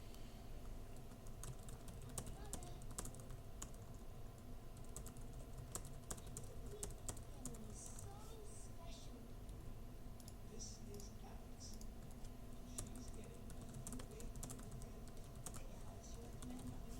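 Someone types quickly on a computer keyboard, a quiet, fairly close stream of rapid key clicks with brief pauses and occasional heavier taps, continuing for the whole stretch.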